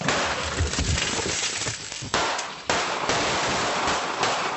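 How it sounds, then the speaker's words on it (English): Gunshots fired by a homeowner through an outer glass door during a home invasion, two sharp loud cracks standing out over a noisy, rumbling background with crashing and scuffling. "the homeowner fires through the outer glass door"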